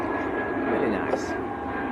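An Emirates airliner from Dubai at Manchester Airport roars with a steady, broad jet rumble and a thin whine. It sounds fairly close, and someone talks quietly over it.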